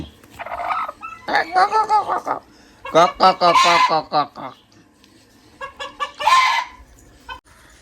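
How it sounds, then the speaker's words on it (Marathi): Village chickens clucking nearby outdoors in the morning, a series of loud, repeated clucks and squawks in several bursts with short pauses between them. "बघा गावठी कोंबडी"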